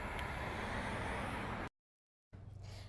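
Steady roar of noisy road traffic near an apartment complex on Albuquerque's West Side, a continuous broadband wash that cuts out abruptly to silence before resuming.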